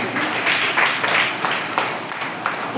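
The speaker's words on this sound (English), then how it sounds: "Clap hands." An audience at a school Diwali celebration claps hands together, a dense steady round of applause from many people that holds at an even level throughout.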